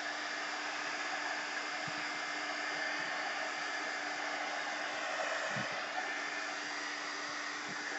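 A dryer blows air over a mixed media art piece in a steady, continuous whir that runs evenly throughout, loud and close, with no talking.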